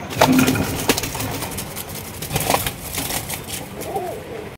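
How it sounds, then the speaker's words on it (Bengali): Low coos from a pair of chila pigeons at a pigeon farm, with brief bursts of wing flapping and shuffling, fairly close, amid soft background noise. "আরো একজোড়া মহব্বতের কবুতর দেখাইতেছি"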